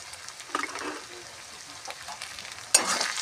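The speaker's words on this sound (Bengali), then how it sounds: "মশলাটা ভাজা হয়ে এসেছে" Spice masala sizzling in a pan for a green cauliflower fry, a soft steady frying hiss with a few louder stirring scrapes and a sharp burst of sizzle near the end.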